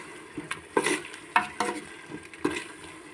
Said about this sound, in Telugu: ఇప్పుడు ఇట్లా మసాలా అంతా వేసుకొని నీట్గా కలబెట్టుకోవాలండి